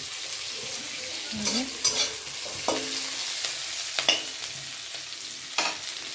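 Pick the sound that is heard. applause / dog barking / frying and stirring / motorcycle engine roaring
frying and stirring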